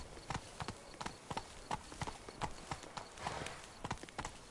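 Hooves of Roach, a horse in The Witcher 3, clip-clopping in a quick, steady galloping rhythm, fairly close and clear, with a faint voice briefly underneath.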